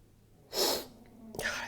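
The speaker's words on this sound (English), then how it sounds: "God, I still have the sniffles." Close, quiet sniffling through the nose from someone with a cold, two short breathy sniffs about a second apart.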